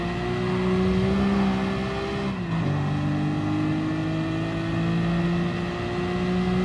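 KTM race cars in GT Sport roar loudly and steadily with sustained engine drone, the pitch dipping briefly near the middle as the car shifts, then climbing again at speed.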